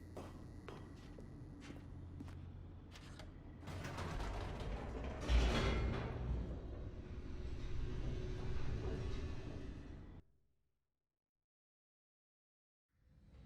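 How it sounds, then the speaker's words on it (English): An elevator descends in The Stanley Parable with a mechanical creaking and grinding rumble that swells midway, then cuts off abruptly into silence. "The elevator raced downward, plummeting towards an unknown fate."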